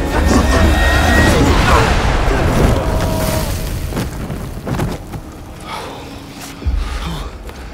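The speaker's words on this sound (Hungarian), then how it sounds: "Gránát a sisak alá." A grenade detonates in an amateur Rainbow Six action film, giving a loud, close, broadband blast at the start that rumbles and fades over several seconds, followed by fainter thuds and a low boom, with voices and gasps.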